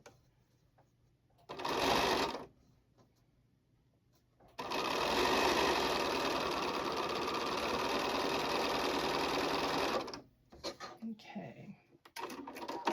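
A sewing machine stitches a Valentine X-and-plus quilt block from a charm pack, with a short burst of stitching followed by a longer steady whirring run of several seconds, close and clear, then stopping.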